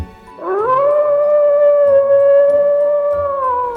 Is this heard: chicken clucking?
no